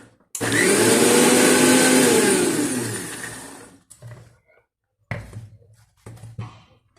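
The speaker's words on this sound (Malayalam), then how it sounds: "ചതഞ്ഞതിന് ശേഷം കുറച്ച് വെള്ളം കൂടെ ഒഴിച്ച് നല്ല പേസ്റ്റാക്കി അരച്ചെടുക്കാം." A mixer grinder blitzes dosa batter with added water into a smooth paste, roaring loud and steady for about three seconds before winding down, then firing in a few short bursts.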